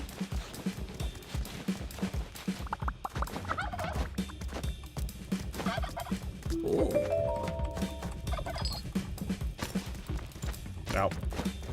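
Turkeys gobble partway through a stretch of busy game sound in the video game Prodigium, a brief warbling gobble rising amid continuous clattering noise and low rumble.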